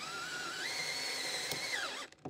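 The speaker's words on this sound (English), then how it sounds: "We've used a spot weld drill just to drill those out." A power drill with a spot weld bit whines steadily as it bores through metal on a Mercedes R107 inner wheel arch, its pitch stepping up partway through, then cuts off abruptly.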